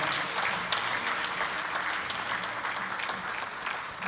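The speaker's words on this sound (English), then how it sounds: "Let's once again clap our hands for Excellency Thabo Mbeki." A standing audience claps for Excellency Thabo Mbeki at the Africa Day lecture, a continuous even wash of hand claps that sounds somewhat distant and subdued, with no voices on top.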